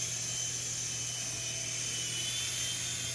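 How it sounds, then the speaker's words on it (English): An indoor toy helicopter flies with a steady, continuous high-pitched whine and rotor buzz that stays constant and close throughout, with no talk. "I'm driving the helicopter."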